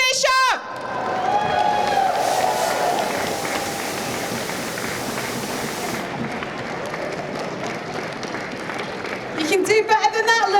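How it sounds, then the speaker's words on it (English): Liverpool audience applauding and cheering for Eric Bischoff, sustained loud clapping and whoops filling a hall, with a voice over a microphone at the start and end. "clap your hands and give it up for Eric Bischoff!"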